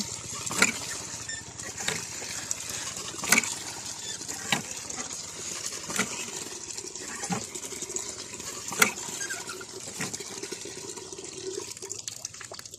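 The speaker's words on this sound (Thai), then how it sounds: "อันนี้เราก็มาสูบน้ำกันนะทุกคน" Water splashes and gushes steadily, with periodic thuds and surges every second or so, like a hand pump pushing water in strokes.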